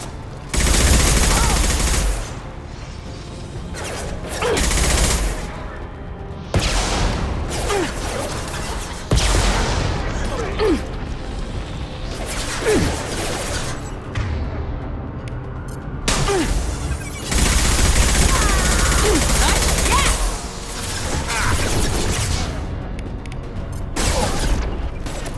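Heavy gunfire in the Mass Effect 2 video game, with repeated loud automatic bursts and booming impacts running throughout at close range, mixed with brief shouted combat voices.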